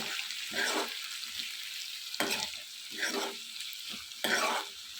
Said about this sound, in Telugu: ఈ విధంగా అన్ని కాకర ముక్కలు వేసేసుకొని బాగా మిక్స్ చేసుకోవాలి